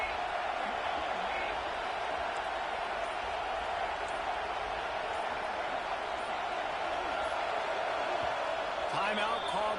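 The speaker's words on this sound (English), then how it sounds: "this crowd trying to help this defense rise to the occasion" Stadium crowd roar in a college football video game matchup of Oregon vs. Texas on fourth down, a loud continuous wash of cheering that runs unbroken through the moment.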